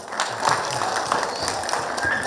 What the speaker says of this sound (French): Applaudissez pour elle.